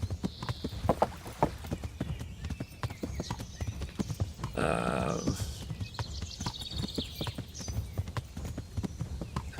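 A horse's hooves clop in a steady, rhythmic run in the medieval game Kingdom Come: Deliverance, close and continuous throughout, with a brief neigh-like burst midway.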